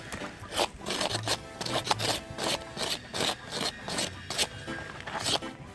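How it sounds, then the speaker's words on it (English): A scraper rasps the skin off a beetroot outdoors, a series of close, irregular scraping strokes with short gaps between them. "Yeah, so scraping time for the beetroot here now."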